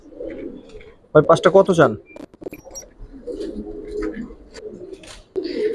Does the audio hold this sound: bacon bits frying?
no